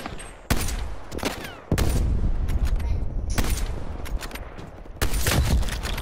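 Loud, sharp gunshot cracks from a game match, several separate blasts at irregular intervals with ringing decay, plus steady background battle noise.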